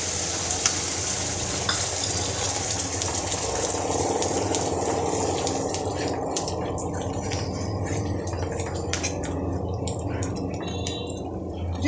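A restaurant-style paneer gravy with cream and curd simmering in a pan, giving a continuous close bubbling hiss. Dense scraping and stirring clicks grow busier toward the end.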